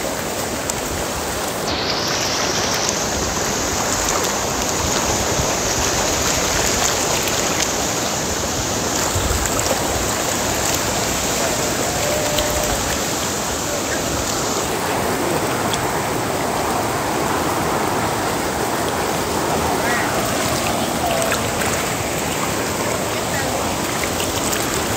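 Sea waves washing up on a beach, a constant loud broadband rush of surf with no distinct breaks, and voices faintly present underneath.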